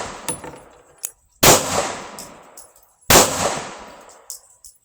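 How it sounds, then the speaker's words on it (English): Two loud, sharp shots from a Smith & Wesson M&P 2.0 pistol fired at rubber targets, each followed by a long echoing decay, with a few small metallic clicks between them and no talking. "So I'm going to take some shots down at these."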